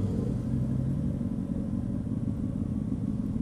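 A large vehicle's engine rumbles steadily nearby, a deep continuous roar of road traffic with no talking.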